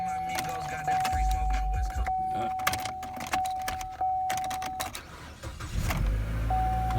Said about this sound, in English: I mean, she cranks up.